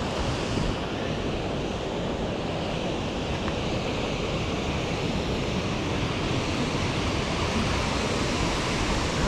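Rushing water of Tokopah Falls on the Tokopah Falls Trail, a steady, loud, unbroken roar of falling water that holds at the same level from start to finish, with some wind and no talking.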